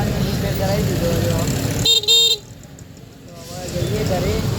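A repaired Activa scooter horn honks in a short burst partway through, standing out against steady traffic and engine noise, with people talking nearby before and after.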